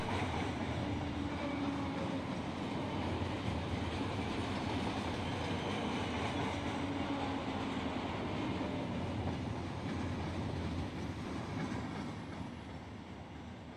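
A freight train rolls past in Run 8 Train Simulator on the Fitzgerald Sub, a continuous rumbling roar of wheels on rail with faint clickety-clack that holds steady, then fades toward the end, with no voices.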